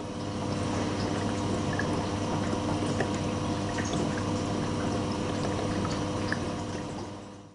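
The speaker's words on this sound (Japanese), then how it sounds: "乾燥運転終了後に排水トラップに水を貯めるため水を流している" Water flows steadily into the drain trap of a Hitachi BD-V5500 washing machine after its drying cycle, a continuous close splashing rush with faint drips running throughout.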